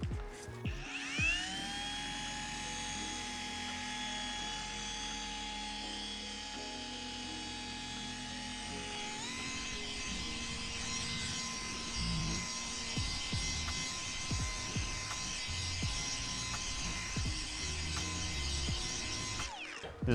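An electric machine polisher running on a car's paintwork with DIY Detail Gold Standard polish, a steady high whine that spins up at the start and then drones continuously with some rubbing texture, close and fairly quiet.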